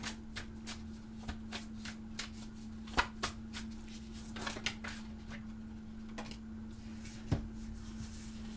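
Tarot cards are pulled and shuffled from a deck, a series of soft papery flicks and slaps at an irregular pace, close and quiet over a faint steady hum.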